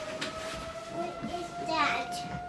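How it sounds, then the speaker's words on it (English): Tornado sirens under test: a steady, faint wailing tone holds through the background while a voice and other household sounds come and go over it. "they're just testing the tornado sirens"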